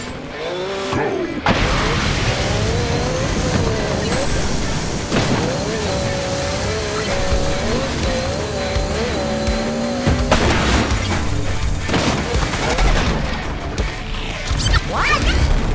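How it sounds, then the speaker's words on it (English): Off-road vehicles in ONRUSH racing on mountainous trails, boosting, jumping and crashing together, a loud continuous roar of engines with repeated crunching impacts and surges, while a voice talks over it. "ONRUSH is all about driving in a literal stampede of off-road vehicles on mountainous trails as you boost, jump, and crash together"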